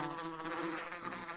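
A bee buzzes steadily and close in a modded video game, a continuous droning hum with no other sounds.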